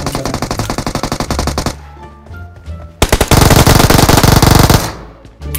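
Loud bursts of rapid automatic gunfire in PUBG Mobile, two long rattling volleys separated by a short lull, close and harsh.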